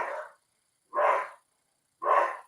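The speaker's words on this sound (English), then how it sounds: "I have dogs that apparently, when I'm on, need to shout." Three loud barks from a dog ring out in an indoor setting, evenly spaced about a second apart, each a short burst with silence between.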